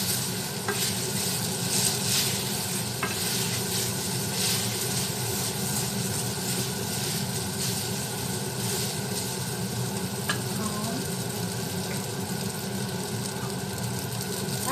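Glass noodles and tomatoes being stir-fried in a pan, a steady close sizzle running throughout under continual scraping and stirring, with a few light knocks of the utensil.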